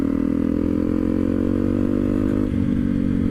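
A 2013 Honda CRF 250L idles with a steady, throbbing engine note through its Two Brothers aftermarket exhaust, loud and close, with a slight dip and blip near the end.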